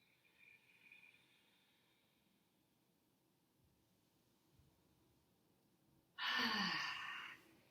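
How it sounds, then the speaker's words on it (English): A single strong breath during a yoga session rushes out loud and close near the end, after several seconds of near-silent room hush. "We're going to take 3 strong breaths here."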